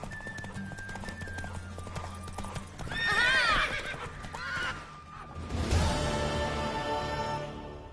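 A horse in The Witcher 3 whinnies loudly twice, a rising and falling neigh around the middle and another near the end, over steady hoof clip-clops and a background music bed.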